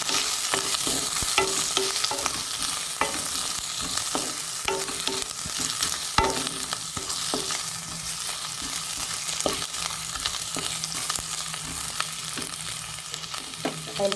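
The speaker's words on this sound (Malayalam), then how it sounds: "അതുപോലെ 2ആയിട്ട് കീറി വെച്ചിരിക്കുന്ന വെളുത്തുള്ളി ഇടാം. ഇത് നമുക്കൊന്ന് നന്നായിട്ട് വഴറ്റിയെടുക്കാം." Halved garlic cloves sautéing in hot oil in a pan, a steady dense sizzle and crackle running throughout, with occasional scrapes and taps of a stirring spoon, no voices.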